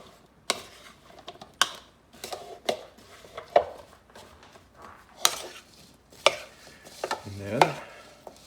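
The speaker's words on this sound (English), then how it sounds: "Do a little more mixing." Food coated in oil is tossed and mixed in a bowl, with a series of separate scraping and clattering knocks spaced irregularly, close and fairly quiet between hits.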